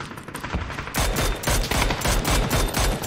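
Bursts of automatic gunfire from a PUBG battle royale match, a dense, loud fusillade of rapid shots and repeated volleys running almost continuously through the clip, with no talk over it.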